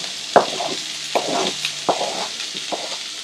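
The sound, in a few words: chopped tomato added to tawa pulao and stirred in pan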